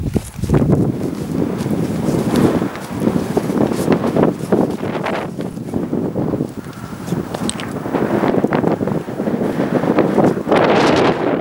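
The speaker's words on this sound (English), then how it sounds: "it's a bit breezy up here" Strong wind gusting across a hilltop summit on North Uist, buffeting the microphone with continuous low roaring and rumbling that swells and eases throughout, loud and close.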